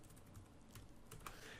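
Quiet, steady keystrokes tap on a computer keyboard in a fast, even patter while typing a message into an online safety-sign maker.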